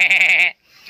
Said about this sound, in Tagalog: So ayun na nga, may kambing.